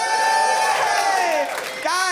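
A live comedy-show audience whoops and cheers at a drag performer's prompt, a loud, sustained burst of shouts and high squeals that sags briefly and then surges again at the end.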